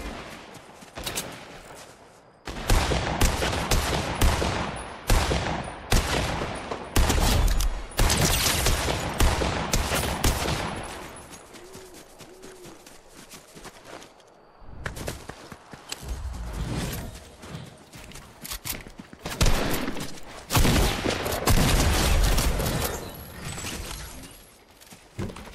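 Rapid bursts of gunfire from a weapon in the video game Fortnite, loud and close, coming in dense clusters with brief pauses between volleys.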